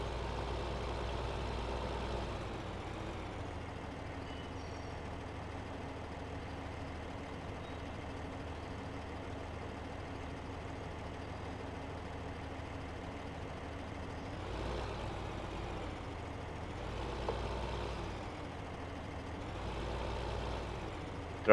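A tractor engine running in Farming Simulator 2015, a steady low diesel drone with a constant hum, rising slightly in a couple of brief surges, heard alone without talking.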